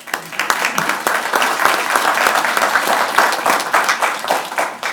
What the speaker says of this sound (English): So join me in clapping, guys.